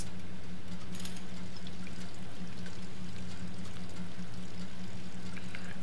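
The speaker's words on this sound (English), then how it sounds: "Alright, go ahead and take a shower." A shower in the survival game Sheltered runs with a steady, moderately loud hiss of water streaming throughout, with no voices.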